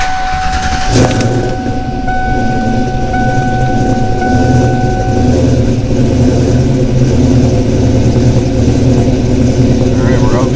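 A 1992 Ford Mustang 5.0 LX Fox body notchback, slightly low on coolant, fires up about a second in and then runs loudly and steadily close by, its throaty rumble continuing without a break and no speech over it.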